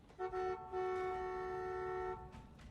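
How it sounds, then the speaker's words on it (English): A car horn in The Walking Dead Season 2 video game sounds one short toot followed by a long sustained blare lasting over a second, loud and clear with no speech. "Those horns are loud."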